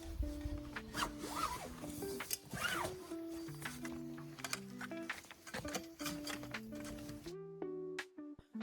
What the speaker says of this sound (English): start to close the zippers to make sure the poles stay in place